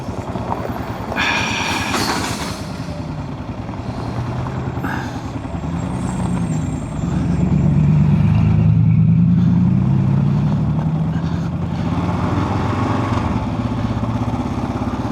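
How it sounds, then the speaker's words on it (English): Trucks driving up a mountain road near Crown King, Arizona, with heavy engines rumbling and growing louder as they approach, steady low drone throughout and a rising swell midway, heard without talk. "Got some trucks coming up here."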